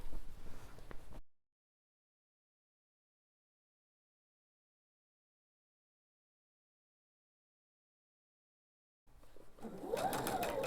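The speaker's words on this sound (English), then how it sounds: "Now nice and slow, just going to sew the length of this seam." A sewing machine stitches a quilt seam slowly, with a steady run at the start, a long silent gap, and the motor whirring again near the end.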